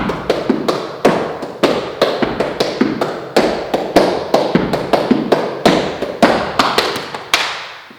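A 6/8 clave rhythm tapped out alone in a steady repeating triplet-based pattern, with sharp, close, dry strikes cycling through the cycle with no talking.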